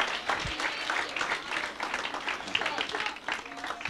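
Applause from a church congregation praising the Lord during a bilingual worship service, a dense, steady wash of many hands clapping at moderate distance, continuous for several seconds with faint voices mixed in.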